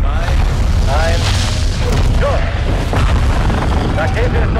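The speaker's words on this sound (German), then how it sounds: "Schuss! Rakete ist unterwegs." A missile launch in Call of Duty: Modern Warfare 2 played on PS5 gives a loud, sustained low booming roar, with voices talking over it.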